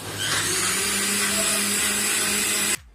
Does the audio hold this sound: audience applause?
no